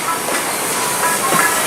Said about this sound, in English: And there goes the steam coming out of the funnel